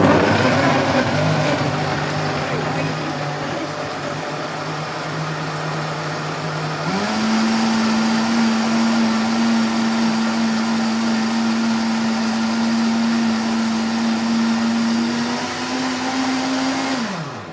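A NutriBullet Smart Touch blender running with yogurt inside, a loud, close motor whine that holds one pitch, then steps up to a higher steady tone, rises slightly and winds down at the end, with no speech.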